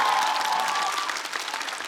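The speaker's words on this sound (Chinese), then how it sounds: "场下掌声雷动，就像现在一样。" Sustained applause from a stand-up comedy audience, a dense, steady wash of clapping at moderate level with a faint tonal hum running beneath it, continuing without letup.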